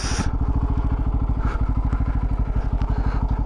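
A friend's Bajaj Pulsar 250 motorcycle engine runs steadily close by, its even, rapid thumping pulse continuing throughout with a faint clatter, and no voices over it.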